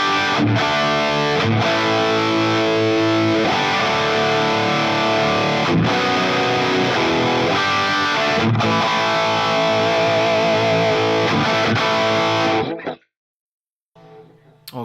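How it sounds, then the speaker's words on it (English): Electric guitar played through a Fractal Audio AX8 on a Friedman Small Box distortion preset, with delay and a drive pedal engaged: loud, dense distorted chords and riffs ringing steadily for about thirteen seconds, then cut off into near silence with a faint tail. "preset 3 is where we go into the fun side and we get to the distortion, and it is a Friedman small box"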